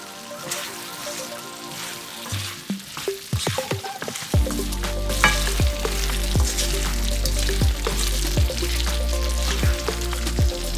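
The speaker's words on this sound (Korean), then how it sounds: "조금 더 푹 졸여볼게요." Spicy braised potatoes sizzle and bubble in a pan, a steady close frying hiss with small pops and stirring scrapes building after a quieter start.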